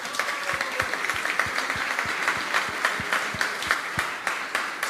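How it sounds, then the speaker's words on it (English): Applause from an audience at a talk, honoring a martial arts coach, with sharp individual claps standing out over a steady wash of clapping, moderately loud and continuous throughout. "So give him a big applause,"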